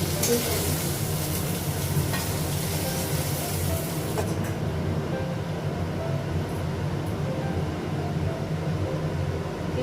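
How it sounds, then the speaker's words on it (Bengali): Fish fries in hot oil with a loud, crackling sizzle for the first few seconds, which then drops to a quieter, steady bubbling hiss. "মাছটা ভাজা হয়ে গেছে"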